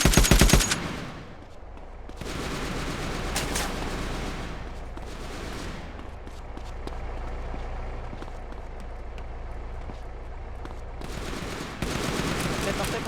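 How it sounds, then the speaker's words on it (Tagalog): Video game gunfire from enemy Acrasia players rattles in rapid automatic bursts, loud at the start and end with steadier firing between. "Uy, bumabaril pa tong Akrasya"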